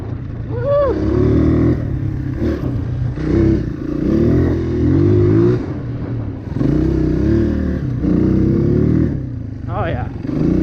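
A stock Honda CRF230 dirt bike engine revs up and down close and loud in several rising and falling pulls, with a brief pause between bursts.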